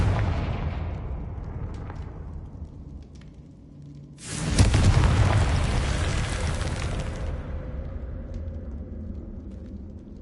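Confringo fire spell blasts from the Hogwarts Legacy video game: a low rumbling bed, then a sudden loud explosive burst that roars briefly before decaying into a lingering rumble.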